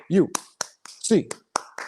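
A single person clapping out the eight-clap chant for UCLA Bruins fans, sharp claps in a quick rhythmic pattern, close and dry, interleaved with a voice and a few vocal sounds.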